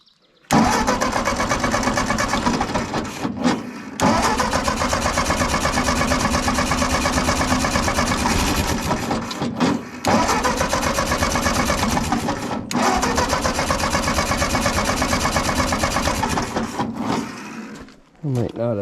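A Ford 8N tractor engine being cranked after repair: several long, loud, rapid churning cranking runs, broken by brief pauses, close by and dominating the sound.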